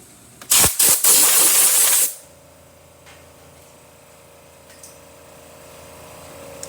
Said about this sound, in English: Excellent steam pressure coming out of the machine